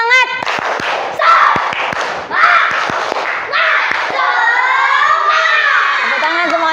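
A classroom of children breaks into noisy rhythmic clapping and shouting, loud and close, with a few sharp claps standing out before the din settles into a sustained chatter of young voices.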